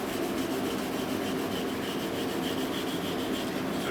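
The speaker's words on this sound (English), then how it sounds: "Good wire brushing again." Steady, continuous scratchy rasping of a wire brush worked over hot forged metal in a blacksmith's shop, tapering a square bar to round, close and even with no pauses or talk.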